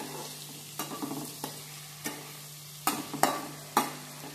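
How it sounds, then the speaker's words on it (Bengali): Paneer tossed with turmeric and salt fries over a medium flame, giving a soft, even sizzle punctuated by several sharp spatula scrapes and taps against the pan at irregular intervals. "মিডিয়াম ফ্লেমে এটা ভাজা হোক"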